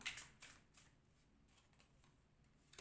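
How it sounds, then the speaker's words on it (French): Tarot cards shuffled and laid down, soft riffling and a few light slaps of cards, faint and close in a quiet room. "Je vais mettre une dernière carte vu que j'ai toutes les cartes là."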